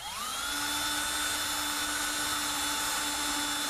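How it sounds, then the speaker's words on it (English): Power drill pre-drilling a screw hole in a wooden birdhouse, a steady high whine that spins up at the start and holds at a constant pitch throughout, close and alone. "So we're going to pre-drill our holes, which we only need one screw right here."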